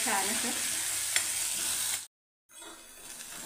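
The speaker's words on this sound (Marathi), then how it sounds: "मसाला केलेला आहे तो घालून घ्यायचा आहे वाटण। थोडंसं परतवून घ्यायचं आहे तेल सुटेपर्यंत।" Ground chili masala paste sautéing in hot oil in a pan, a loud continuous sizzle with stirring scrapes, broken by a brief moment of silence before the frying resumes.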